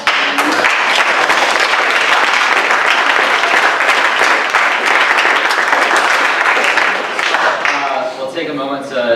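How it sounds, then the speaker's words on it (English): A meeting audience bursts into sustained, dense applause, loud and close throughout, trailing off slightly near the end with faint voices underneath. "Another big round of applause."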